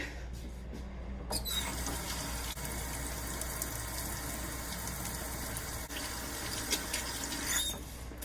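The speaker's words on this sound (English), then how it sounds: "Let me wash my hands." Hands being washed under a running tap, with a steady rush of water that starts after about a second, continues for roughly six seconds and then cuts off, with no talking.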